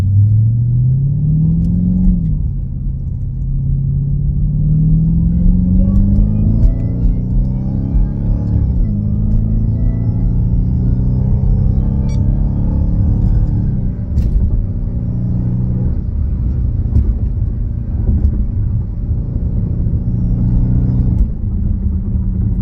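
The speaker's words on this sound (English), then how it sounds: "Here's some more whine." A supercharged Dodge Hellcat fitted with a JLT intake box drives under load, its deep engine rumble climbing and settling through gears with a thin whine riding above the exhaust, loud and steady throughout.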